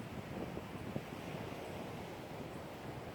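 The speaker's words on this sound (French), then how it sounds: "On profite des bruits de la nature, des vagues, car la mer est assez agitée, du vent" Rough, agitated sea with waves breaking and strong wind gusting, forming a steady, dense wash of surf noise throughout with no voices.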